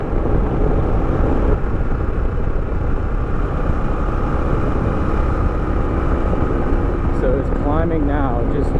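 Kawasaki KLR650 single-cylinder engine accelerating out of a turn, a loud steady drone with heavy wind rumble throughout.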